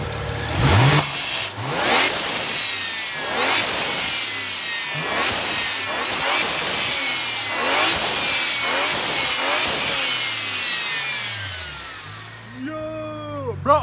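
A car fitted with a new VRSF chargepipe and HKS blow-off valve revs loudly and repeatedly, engine rising and falling in long sweeping pulls with rasping mechanical texture, ending in a sharp whooshing release.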